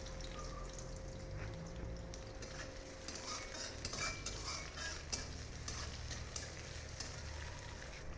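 Chopped onion hits hot oil spiced with black cumin and fries in a soft, steady sizzle. The sound is quiet and even throughout, with faint stirring and no voices.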